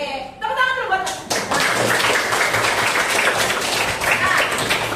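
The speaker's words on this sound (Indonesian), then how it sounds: "Oke, tepuk tangan dulu buat" Schoolchildren in an elementary classroom clap together, a dense spread of handclaps that starts after a few spoken words and carries on steadily, with voices mixed in.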